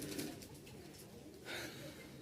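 A Giribaj flying pigeon, a male, coos softly at a fair distance, a low, faint murmur under steady background noise.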